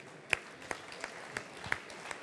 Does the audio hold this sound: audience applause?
yes